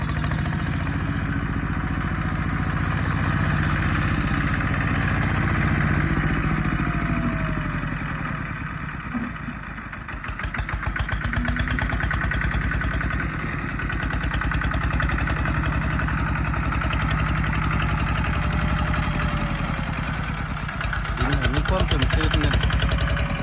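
A small vehicle's engine runs steadily over hard ground, a loud continuous drone with rattling clatter, while someone talks over it.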